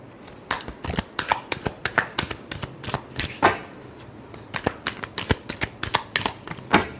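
Tarot cards shuffled by hand in a rapid, uneven run of crisp riffling flicks and slaps, close and fairly loud, lasting several seconds with no talking.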